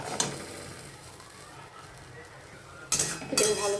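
Pineapple for chutney sautés in a pan with a steady low sizzle, and a utensil scrapes and clinks against the metal several times, loudest toward the end.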